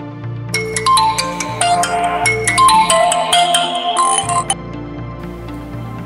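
A mobile phone rings with a melodic ringtone in a Nepali drama scene at home. The tune plays loud and clear for several seconds over a soft backing, then fades into a quieter lingering tone.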